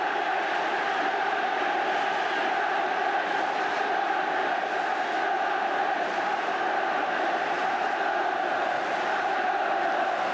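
A football crowd at the 1977 Charity Shield between Liverpool and Manchester United, a dense, continuous roar of many voices from a packed stadium, steady and distant-sounding throughout with no distinct individual shouts.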